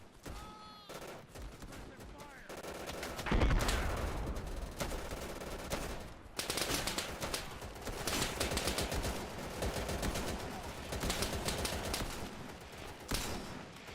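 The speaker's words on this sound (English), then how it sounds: "I'm under fire!" Dense gunfire from the World War II shooter Easy Red 2 on a Southern France custom map, sustained rattling bursts of rifle and machine-gun fire, loud and near, with occasional voices.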